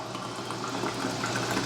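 Water poured into canning jars of unsoaked chickpeas to top them up before pressure canning, a continuous close gurgling and splashing fill with a steady hiss, no voices.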